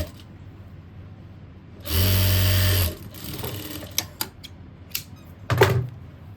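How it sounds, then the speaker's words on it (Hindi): A sewing machine stitches a folded fabric strip in one loud, close burst of rapid whirring lasting about a second, followed by quieter handling clicks and rustles of cloth. "इसको इस तरह से फोल्ड करेंगे। और इस पर सिलाई लगा लेंगे।"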